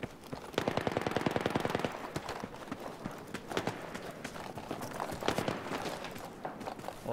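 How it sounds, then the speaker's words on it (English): Rapid automatic gunfire bursts from a multiplayer shooter video game, a dense loud volley early on, then scattered shorter bursts and single shots at varying distance, with occasional faint talk. "I'm shooting someone northwest."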